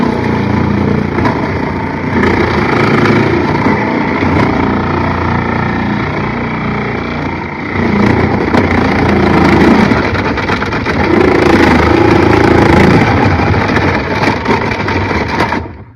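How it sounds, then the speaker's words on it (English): A food processor grates about a third of a pound of cheese, its motor whirring loudly and continuously with a grinding, buzzing texture that rises briefly in intensity near the end. "I just cut it so that it could fit in the food processor"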